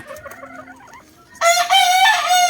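A Boston Roundhead gamecock crows once, loud and close, a strong drawn-out harmonic call that starts abruptly after a short stretch of faint clucking and background noise.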